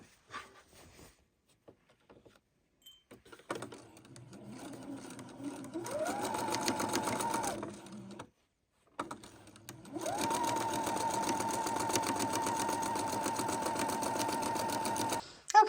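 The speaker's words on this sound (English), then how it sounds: "We're going to go ahead and sew a couple more of these rows" Sewing machine stitching rows of a Christmas quilt, two sustained runs of rapid mechanical whirring separated by a brief pause, close and steady.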